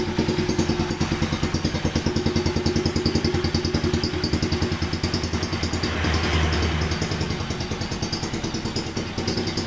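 A Mini Trail 125cc K3 motorcycle with a manual clutch, 2020 model, idles steadily right after starting, its loud close engine putting out a continuous rapid chugging clatter with no talk.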